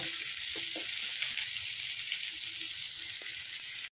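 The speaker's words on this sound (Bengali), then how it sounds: "কুমড়োগুলো হালকা ভেজে নেব।" Pumpkin pieces frying lightly in turmeric-tinged oil, a constant bright hiss of sizzling close by with a few faint clinks of a utensil, and no one speaking.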